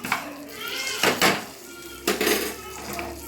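Jaggery filling is mixed in a metal vessel with a utensil, giving close scraping and clinking knocks in a few bursts with quieter stirring between, no talk.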